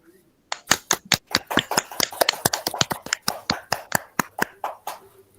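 A class of schoolchildren applauds together indoors, a run of sharp, dense hand claps building quickly and continuing steadily for several seconds at close range.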